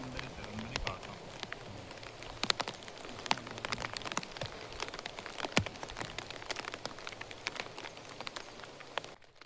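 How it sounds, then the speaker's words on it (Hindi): Rain patters on a tent in the forest, an irregular close tapping of drops over a soft steady wash, fairly quiet. "तो अभी बाहर साइड में होने लगी बारिश और मैं आ गया टेंट के अंदर"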